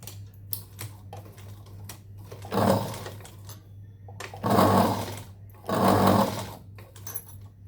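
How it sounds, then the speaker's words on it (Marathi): A sewing machine stitches a blouse sleeve in three short bursts of rapid, close clatter, separated by quiet gaps with faint handling clicks. "इथून आपल्याला आता शिलाई मारायची आहे"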